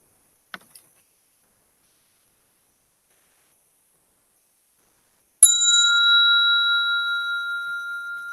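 A single bell is struck to close a zazen meditation session, ringing out clearly after a long silence and decaying slowly with a shimmering, sustained tone; a faint tap is heard earlier.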